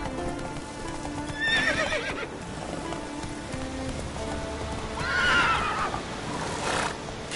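Roach, the horse in The Witcher 3, whinnies twice over steady clip-clopping hooves as it breaks into a gallop, with rain pattering throughout the game scene.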